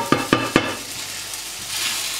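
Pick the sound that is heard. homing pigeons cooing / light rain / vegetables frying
vegetables frying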